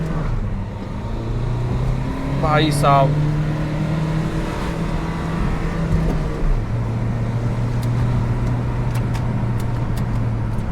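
A car engine drones steadily and shifts pitch partway through as it accelerates, with a brief voice speaking over it early on.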